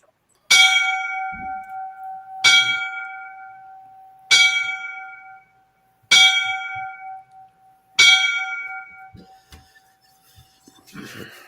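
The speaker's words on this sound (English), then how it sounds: "Give them the 5 bells" Five loud bell tolls for fallen firefighters ring out about two seconds apart, each strike bright and ringing with a long decaying tail, followed by quiet background noise.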